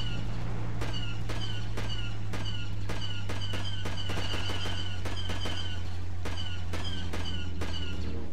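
Sniper gunfire in the Star Wars Battlefront 2 video game on the Kashyyyk Tree Village map: repeated sharp blaster-like cracks, some single and some in quick clusters, over a constant low hum.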